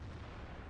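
A 150mm Borsig gun shell slams into a tank in World of Tanks, a single deep, heavy boom filling a brief moment with dense low rumble.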